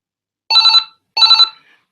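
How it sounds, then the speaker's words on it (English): Two bursts of a trilling telephone bell ring out in succession, clear and close, with short silences between and no talking. "oh, there's a phone ringing."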